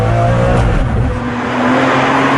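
Ferrari Enzo supercar with a sequential gearbox, its engine roaring loud and continuous under throttle, a steady harmonic drone rising slightly toward the end, with no talk.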